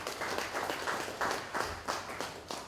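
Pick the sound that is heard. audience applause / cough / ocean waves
audience applause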